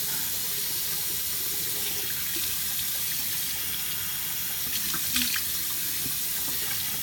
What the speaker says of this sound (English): So I'm just rinsing, and I'm not using super hot water.